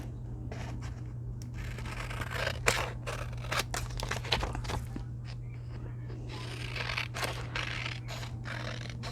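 Scissors snip and crunch through the paper edging of a handmade journal page, with repeated close cuts and scraping over a steady low electrical hum.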